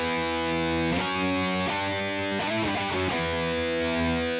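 Distorted electric guitar plays a riff, a sustained chugging low figure with quick slides and note changes in the middle, thick and loud throughout.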